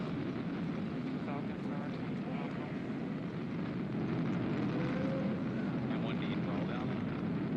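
A SpaceX Falcon 9 carrying a crewed Dragon capsule roars during launch, a dense, continuous low rumble heard at a distance, with faint voices over it.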